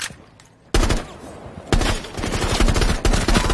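Rainbow Six Siege gunfire from a controller firing on its own: after a quiet start, loud sustained automatic bursts of rapid shots close up, pausing briefly then resuming in a fast rattling stream.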